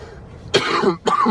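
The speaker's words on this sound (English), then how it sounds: "Sorry guys, I'm coughing so much." Two short, rough coughs close to the mic, one after another with a brief pause between them.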